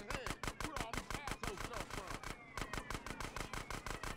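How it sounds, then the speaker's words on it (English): Rapid, steady bursts of automatic gunfire from GTA San Andreas, loud and close, hammering in a fast regular rhythm with a brief lull midway, over game background sounds. "can you guys even hear me through this shooting?"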